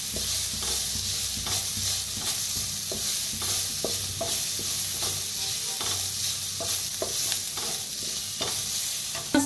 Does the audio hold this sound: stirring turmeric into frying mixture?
yes